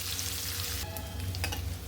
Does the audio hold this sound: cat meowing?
no